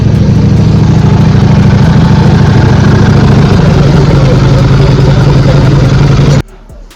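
A high-end motorcycle with a four-into-four exhaust idles loud and close in a steady, throbbing drone, then cuts off abruptly near the end, leaving only quiet background.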